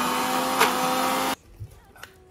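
Mixer grinder blending raw mango, fresh coconut, sugar and salt, a loud steady whirring grind that runs for over a second and then cuts off abruptly, leaving only faint rustles.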